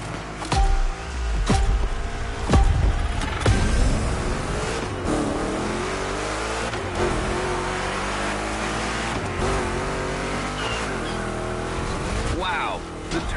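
A Chevrolet 3100 Big Block Edition in The Crew Motorfest racing game revs loudly and steadily, engine roar rising and falling through gear changes with occasional tire noise, accompanied by music and a voice talking over the drive.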